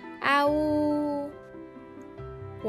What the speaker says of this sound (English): It's the sound of sheep.